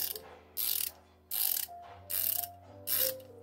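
A Husky 144-position ratchet clicks in four short, rapid bursts of fine, bright metallic ticking, each about a third of a second, heard up close and alone with brief pauses between strokes.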